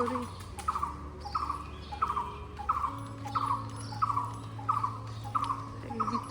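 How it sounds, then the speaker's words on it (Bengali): Morning birds call from trees around a house, a repeated short chirping phrase recurring about every half second, moderately distant over a low steady hum with no talk. "পাখি ডাকছে সকাল সকাল খুব সুন্দর"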